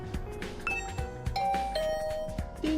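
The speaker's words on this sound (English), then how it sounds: "Ding dong." A doorbell chimes a ding-dong in the video game The Hundred Line, bright tones ringing out over a busy bed of game music and effects.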